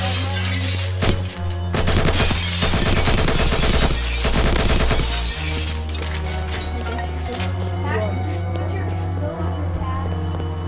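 Dense rapid gunfire from the Roblox game Mad City rattles loudly in sustained bursts over looping game music, then gives way to the music and scattered electronic effects.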